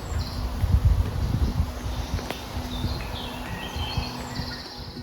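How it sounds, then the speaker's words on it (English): Birds chirp and trill in scattered short calls over an outdoor background, with some footstep-like thumps and rustling early on. "But now I'm just gonna listen to the birds for a bit"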